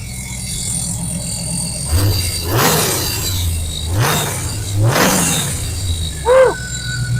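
A 1929 Ford Model A truck engine idles with a low, lumpy throb, broken by several distinct revving bursts at roughly two-second intervals, heard up close.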